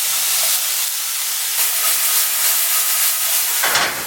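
Vegetable stems drop into a hot pan with onions and hiss loudly at once, a dense steady sizzle close by that holds for a few seconds, with a fresh burst of spitting near the end.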